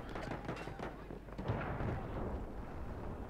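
A grenade explodes in Battlefield 1: a rumbling blast amid ongoing battlefield gunfire and booms, moderately loud and somewhat distant, with muffled background voices.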